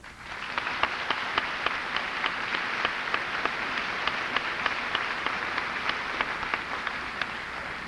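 A graduation audience at a high school ceremony in Reston, Virginia applauds the teachers, a dense sustained round of clapping heard from within the hall, steady and even for several seconds with no talk.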